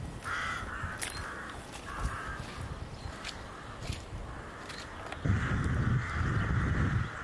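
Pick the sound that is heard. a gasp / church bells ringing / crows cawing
crows cawing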